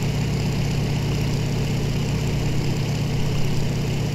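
A propeller aircraft engine in the IL-2 flight combat game drones steadily and loudly throughout, a constant low rumble with no talk over it.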